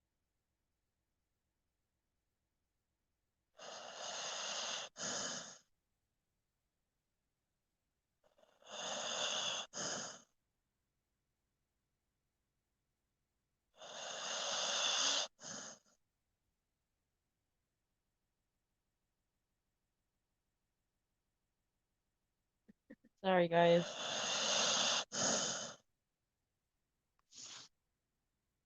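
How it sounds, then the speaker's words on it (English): A dog snores loudly indoors: four long, rasping breaths spaced roughly five seconds apart, followed by a short burst near the end as a person briefly speaks. "That was the dog snoring."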